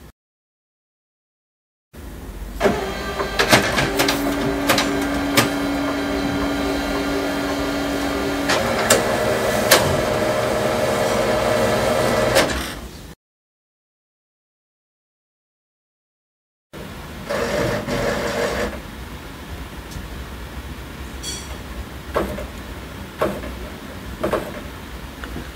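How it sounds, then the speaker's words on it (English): An HP Color LaserJet Pro MFP M283fdw laser printer whirs and hums steadily with mechanical clicks and a brief tone, stops for a few seconds, then restarts after a factory reset with renewed whirring and scattered clicks. "the printer will restart."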